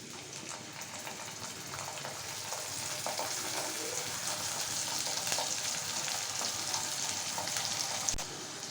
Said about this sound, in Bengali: এখন আমি এখানে অ্যাড করে দেব। এখানে আমি নিয়েছি পেঁয়াজের পেস্ট, জিরার পেস্ট, রসুন পেস্ট, আদার পেস্ট।